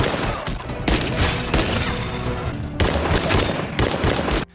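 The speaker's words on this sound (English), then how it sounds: "There was a fierce exchange of gunfire between them." Rapid bursts of gunfire fill the clip, loud and continuous, with volleys of shots and crackling impacts, briefly dropping near the end.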